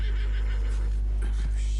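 A horse in the video game Red Dead Redemption 2 gives a short whinny over steady background hum, with a voice also present.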